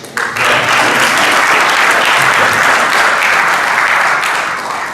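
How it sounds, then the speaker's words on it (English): Sustained audience applause at a Hall of Fame induction ceremony, starting abruptly and holding steady and loud for the full five seconds as a dense wash of clapping from a large crowd. "let's give Miss beautiful Miss Elliott a round of applause"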